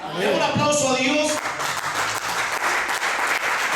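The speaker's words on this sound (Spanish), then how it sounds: "Demos un aplauso a Dios." A church congregation breaks into warm, sustained applause right after a preacher's voice, the dense clapping filling the hall evenly and steadily until the end.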